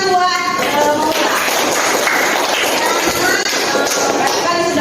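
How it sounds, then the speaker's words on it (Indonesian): Students applauding a classmate in a school classroom, a short burst of dense clapping with voices mixed in, fairly loud and close throughout. "Tepuk tangan buat Maula."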